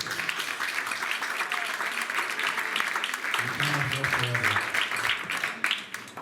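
An audience at a talk on designing cobots breaks into a burst of applause, many hands clapping in a dense patter that swells in the middle and fades, with a voice briefly speaking over it.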